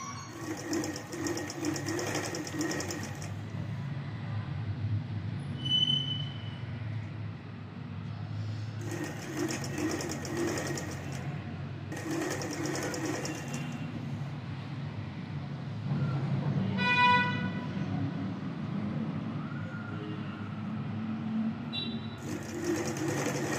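Sewing machine stitching lining cloth for a baby's fancy langha, running in several steady bursts of close, continuous needle whir with short pauses between them, no talking.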